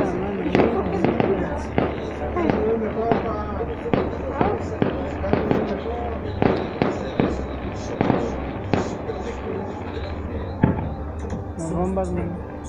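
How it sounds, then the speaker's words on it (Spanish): Fireworks and rockets burst in rapid irregular volleys of sharp bangs and crackles during a castillos burning festival in San Miguel Ameyalco, loud and close, with people talking and exclaiming throughout. "¿Por qué están echando todos los cohetes ya?"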